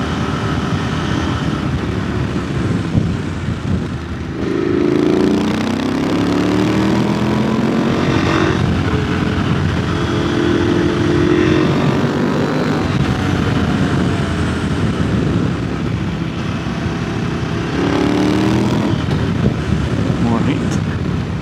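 KTM 890 Adventure motorcycle on new Mitas Enduro Trail+ tyres, ridden in pouring rain, a steady engine drone mixed with heavy wind rush and road noise, with rising and falling engine tones as the bike accelerates.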